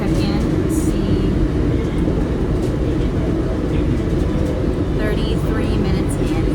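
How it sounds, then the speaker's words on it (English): Steady, loud rumble inside a moving northbound train, a continuous low drone of wheels and car noise filling the whole stretch with no break. "We're on the northbound train, right where we need to be."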